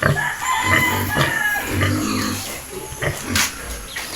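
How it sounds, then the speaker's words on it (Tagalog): Large pig on a Philippine pig farm grunting and squealing in short repeated bursts, close and fairly loud, mixed with a rooster crowing and hens clucking nearby. "Ito yung kuwan namin, malaking baboy."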